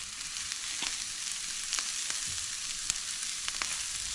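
Chicken chow mein with ginger stir-frying in a hot pan: a steady, close sizzle with occasional sharp ticks and scrapes as the food is kept moving.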